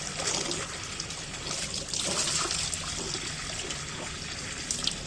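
Water runs steadily from a home water softener during its rinse cycle, a continuous close trickle and splash with small gurgling variations throughout.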